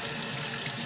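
Tap water running over a plastic aquarium bag holding killifish, rinsed under a room-temperature faucet: a loud, continuous, even splashing stream close to the microphone, with no voices.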